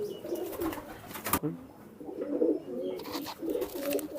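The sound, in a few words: Madrasi pigeons cooing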